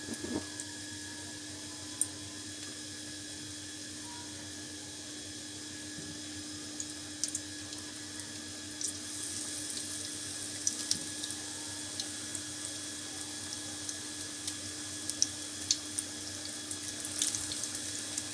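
Green chillies dipped in batter and fried in hot oil as pakoras give a steady, even sizzling hiss that runs the whole time without any voices.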